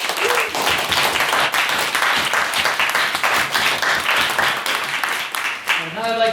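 An audience at a formal Stormont debate applauds a maiden speech, sustained dense clapping from a full room lasting several seconds before a voice begins speaking at the end.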